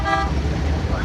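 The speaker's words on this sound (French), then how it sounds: "Bon, les klaxons, clairement, ça rend fou." Car horns honking in city traffic, a sustained toot over steady road noise in a brief burst.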